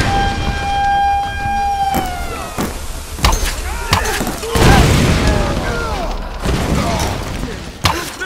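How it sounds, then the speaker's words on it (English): A rising and falling siren in the video game Tomb Raider Definitive Edition wails at the start, then fades beneath loud booms, crashes and sharp impacts in a chaotic, noisy scene. "you could stop with the siren."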